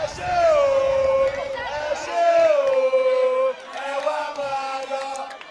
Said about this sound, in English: That is a famous chant by the crowd.